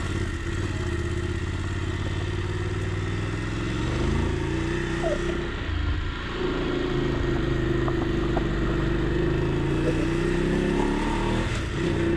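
Voge 900 DSX motorcycle ridden on the road, its engine humming steadily with shifting pitch and a few rises in revs over wind rush, continuous and close for the whole stretch.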